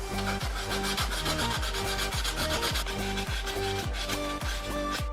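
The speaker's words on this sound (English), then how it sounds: "let's start sanding" Fine 360-grit sandpaper rubs a metal lightsaber hilt in quick back-and-forth strokes, a continuous close scratchy rasp with a steady rhythm and no speech.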